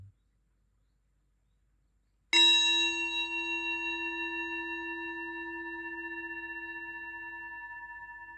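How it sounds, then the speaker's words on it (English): A single meditation gong strike rings out after near silence, a sharp attack blooming into a long, shimmering sustained tone with a gentle pulsing beat that slowly decays, heard alone. "We open ourselves to the sound of the gong."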